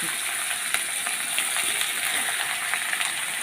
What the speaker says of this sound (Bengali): এখন আমি সব সবজিগুলো দিয়ে দেবো সব এক এক করে ঢেলে দেবো